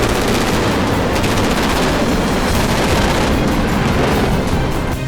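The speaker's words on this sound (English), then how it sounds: "In the midst of heavy gunfire exchanges, the enemy is caught unawares." Heavy gunfire rattles continuously in dense, overlapping bursts, loud and unbroken throughout.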